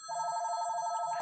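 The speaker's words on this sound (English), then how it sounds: "Sorry about the phone call again." A telephone bell rings in one continuous, rapidly trilling burst for about a second. It stops abruptly with a click.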